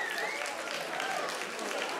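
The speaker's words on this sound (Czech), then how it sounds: "takže poprosím i pro pana Formana velký potlesk ředitele školy a jeho proslov k maturantům." A crowd applauds steadily for the school director at a graduation ball of a business academy and hotel school in Havlíčkův Brod, dense even clapping held at a constant level throughout with no pauses.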